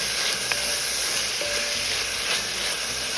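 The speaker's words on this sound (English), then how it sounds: "Now we're going to add our onions and our peppers to the pan." Onions and peppers hiss and sizzle steadily in a hot frying pan for a Cuban okra stew, a constant close crackling wash with faint utensil taps, no talk.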